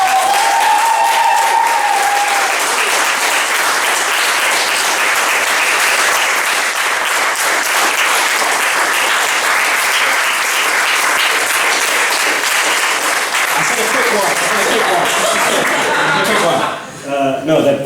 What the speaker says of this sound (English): So can we just give them a quick round of applause?